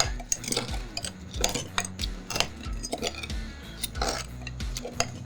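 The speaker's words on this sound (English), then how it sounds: "We're gonna mash these down. We want to express all of the oil and juice out of these limes." Limes with Demerara sugar being muddled for a cocktail, a series of dull knocks and gritty grinding thuds against the bottom of a glass in an uneven rhythm, with a few light clinks, close and without speech.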